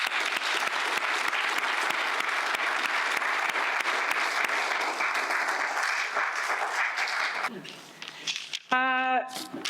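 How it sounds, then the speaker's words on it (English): A crowd at an awards evening breaks into sustained applause, dense and loud, fading toward the end as scattered claps, a voice and a brief tone come through. "A big round of applause to our honored guests, staff, volunteers,"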